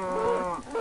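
A cow in the Minecraft video game gives a single short, tonal moo, close and clear with no talk over it.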